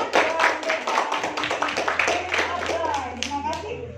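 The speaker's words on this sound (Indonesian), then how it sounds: "Kita beri tepuk tangan dulu." Clapping from a small audience at a student e-magazine presentation competition, distinct close hand claps in an uneven rhythm with children's voices talking underneath.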